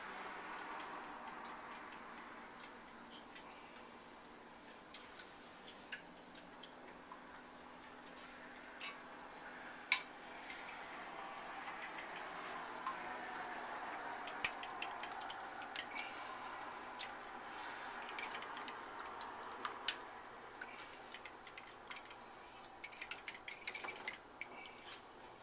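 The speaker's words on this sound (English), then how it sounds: "So while I'm whipping this, and I would imagine the whipping process adds air to it as well." Eggs whisked in a bowl for an omelette, a steady run of light, rapid clicks and ticks as the whisk strikes the bowl, fairly faint and continuing throughout without speech.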